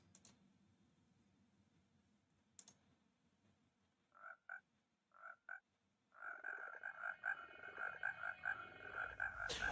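Frog croaks from a track, starting as a few sparse paired croaks and then swelling into a dense, steady chorus of rhythmic ribbits, fairly close and alone.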